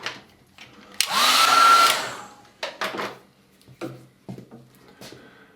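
A hair dryer blows on a watercolour beach painting in one loud, close burst lasting about a second, followed by scattered soft knocks and handling noises.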